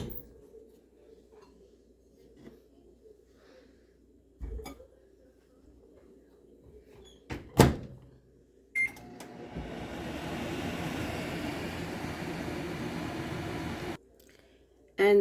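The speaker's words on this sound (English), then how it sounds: "I'm gonna melt it in the microwave." A microwave oven hums steadily for about five seconds while melting butter for Jamaican hard dough bread, following scattered kitchen clinks and knocks before it stops abruptly.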